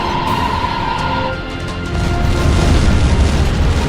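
Missile explosions hitting a target in the jet combat game H.A.W.X, a loud, dense rumbling boom that sustains, dips briefly, then swells again, with no voices over it.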